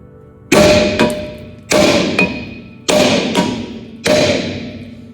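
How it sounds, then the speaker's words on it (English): Four heavy metallic blows land at steady intervals, each ringing briefly with a lighter rebound tap, as a hammer pounds the face of a stuck brake drum or rotor up close. "we are going to hammer on the face of the drum or the rotor, just like so."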